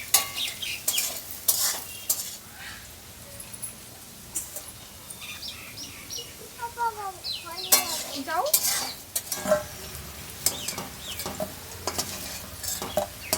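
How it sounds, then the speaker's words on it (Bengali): Potatoes fry in oil in a village kitchen, browning slowly while being stirred, with a steady close sizzle broken by scraping and clinking of utensil against pan, and a bird chirping faintly in the background. "আলুটা না একটু লাল লাল করে ভেজে নিতে হবে"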